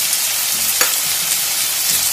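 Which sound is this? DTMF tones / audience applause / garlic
garlic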